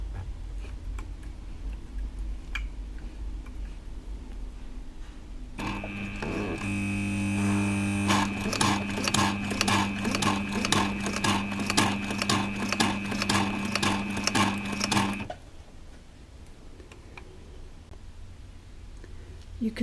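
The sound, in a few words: Pfaff 1222E sewing machine sewing thick leather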